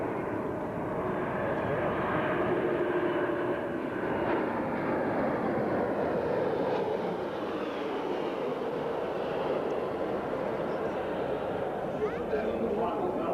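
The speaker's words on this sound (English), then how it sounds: "we'll just watch this first pass of the A340 as it makes its way in" An Airbus A340 test airplane passing at a 1992 Australian air show produces a broad, steady jet roar that swells gently and holds, distant and fairly soft, with voices murmuring underneath.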